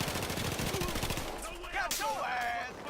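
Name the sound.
FAMAS assault rifle gunfire in Battlefield video game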